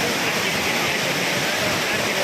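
Courtallam's main waterfall flowing with force, a dense, loud, unbroken roar of falling water filling the whole scene from start to end, steady and close.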